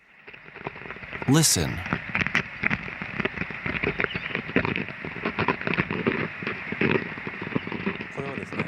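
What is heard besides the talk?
ant crawling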